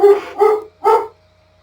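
A dog barks three times in quick succession, loud and close, indoors during a 3D printer setup session, then falls silent.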